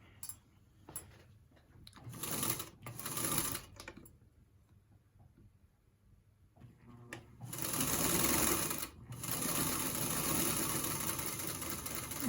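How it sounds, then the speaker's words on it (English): A sewing machine stitches a fabric quilt piece in several whirring bursts, short runs at first, a pause, then a longer steady run near the microphone. "we're going to go ahead and sew that piece."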